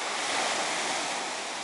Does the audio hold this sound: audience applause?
no